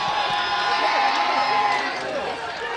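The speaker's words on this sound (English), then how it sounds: "Maynard crowd getting really pumped up for this play" A Maynard football crowd cheers and whoops before a play in a game against Baypath, a steady, dense roar of many voices that holds for the whole moment and dips slightly near the end.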